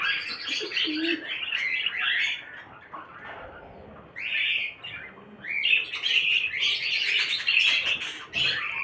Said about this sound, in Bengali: এটা কিন্তু একটা হল্যান্ড পাখির বাচ্চা।